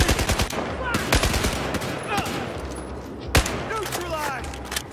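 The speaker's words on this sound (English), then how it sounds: "Watch out! I'm firing." Gunfire in the Battlefield 4 video game played on Xbox 360, with rapid bursts of sharp shots and a few heavier cracks over a busy battlefield background, and people talking in between.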